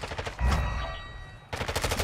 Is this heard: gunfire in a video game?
yes